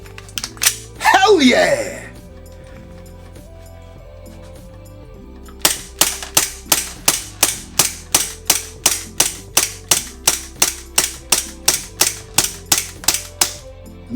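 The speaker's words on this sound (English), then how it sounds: "Let's see how many more rounds we can pop off before we have to fill it up with gas again." A licensed ICS SAR 9 gas airsoft pistol fires about twenty evenly spaced, sharp, loud pops in rapid rhythm, after a burst of excited shouting.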